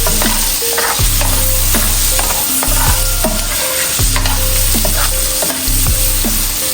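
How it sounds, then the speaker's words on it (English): Ingredients for Jamaican curry corned beef fry loudly in a pan, with a steady close sizzle and repeated stirring scrapes at regular intervals, and no one talking. "so I kind of fry them to the lightly golden brown"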